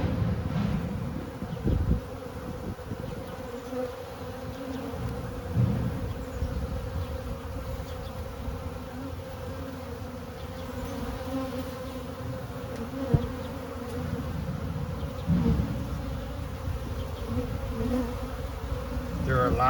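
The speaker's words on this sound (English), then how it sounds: "There are a lot of the bees that I put in the box earlier coming out" Dense, steady buzzing of a honeybee swarm, continuous and fairly close throughout, with slight swells in intensity.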